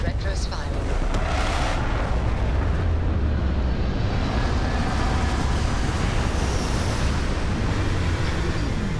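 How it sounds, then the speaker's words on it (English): Spaceship retro thrusters fire during a landing in Starfield, a loud, steady roaring rumble with heavy low-end thrust and hiss that holds without a break for the whole stretch, with a voice faintly underneath. "Retros firing."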